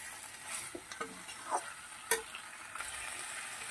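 Mixed vegetables fry in a spice paste in a pan, with a soft sizzle and scattered stirring scrapes and clicks, fairly faint and without speech.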